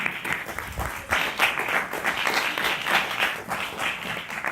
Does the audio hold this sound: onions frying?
no